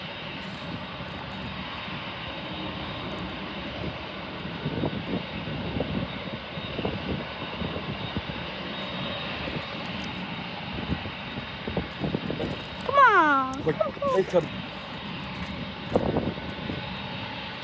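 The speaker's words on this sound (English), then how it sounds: "But the plane take off." A Boeing 747 airliner takes off with a steady, broad engine roar heard from a distance that swells slightly toward the end, while a person briefly calls out over it.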